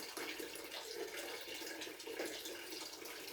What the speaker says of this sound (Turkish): Böyle biraz azaltıyoruz suyu.